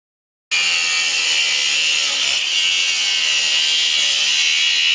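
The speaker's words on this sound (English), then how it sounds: "using power tools to cut steel" A power tool cuts into old steel star pickets, starting abruptly after a short silence and then holding a loud, continuous high-pitched grinding whine without a break.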